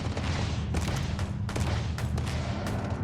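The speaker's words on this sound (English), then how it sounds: "hear gunshots." Gunfire in the video game Starfield rings out in repeated sharp bursts over a dense, loud background of combat noise.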